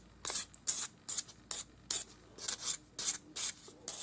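A sanding stick rubs against the end of a fine earring wire in jewelry making, producing a quiet, close, hissy scratching in about a dozen short, evenly spaced strokes.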